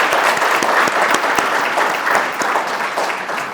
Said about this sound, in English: So everybody give yourself a round of applause.